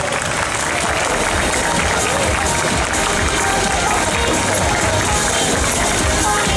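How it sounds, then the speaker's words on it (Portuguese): Loud, dense applause from the audience at a lolita fashion contest, a steady wash of many hands clapping through the whole stretch with voices mixed into the crowd noise. "Palmas, gente."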